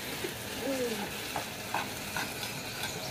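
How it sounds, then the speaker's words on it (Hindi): Potatoes with fenugreek fry in a pan in a village-style kitchen, a steady close sizzle with light scraping stirs and small taps of the utensil, and no talk. "आलू तकरीबन फ्राई हो चुके हैं।"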